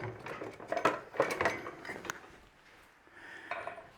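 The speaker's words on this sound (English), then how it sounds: "what we need to do now is just actually run a knife around there" Knife scraping and clinking against a metal pie tin as it is run around the puff pastry edge of an Australian meat and potato pie, a few quiet close scrapes and taps.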